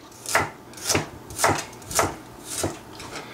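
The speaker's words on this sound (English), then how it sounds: "I'm going to take my chef's knife and I'm going to slice it up" Chef's knife slicing ginger on a cutting board, six evenly spaced crisp cuts about half a second apart, close and fairly quiet with no talking.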